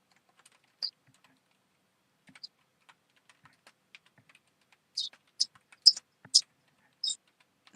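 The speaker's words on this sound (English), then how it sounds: "Sorry, my typing's weird because I have nails on." Clicky typing on a computer keyboard with fake nails, sparse taps at first, then a burst of sharper, louder clacks near the end; no voices.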